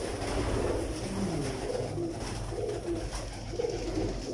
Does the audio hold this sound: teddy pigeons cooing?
yes